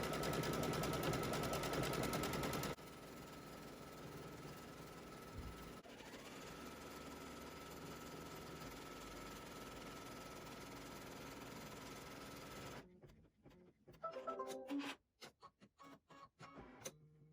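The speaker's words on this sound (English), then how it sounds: "Now as we stitch, we're going to be very mindful of where our needle is going" A sewing machine stitches a quilt block in a fast, steady whirring run for most of the stretch, then stops abruptly, leaving a few scattered clicks and handling noises near the end.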